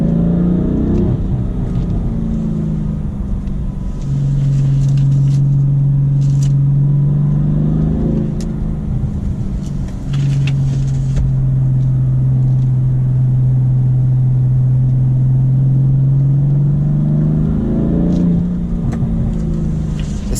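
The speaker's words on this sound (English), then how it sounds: "The engine is up to temps, so let's have a little fun." A BMW M3 F80 with a twin-turbo engine pulling hard on a freezing road, loud rising revs through several gear changes with a steady mechanical drone inside the cabin.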